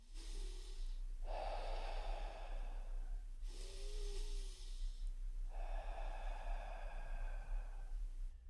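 Three long, deep breaths drawn in and pushed out close to the mic, each a few seconds of airy rushing with brief pauses between, over a steady low hum and no talk.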